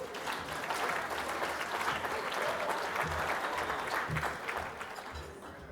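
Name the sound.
audience applause for award presenter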